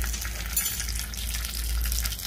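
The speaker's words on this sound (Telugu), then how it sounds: "పోపు దినుసులను వేయించుకుని అందులో" Tempering spices sizzle and crackle steadily in hot oil for mango rasam, a close, continuous frying hiss.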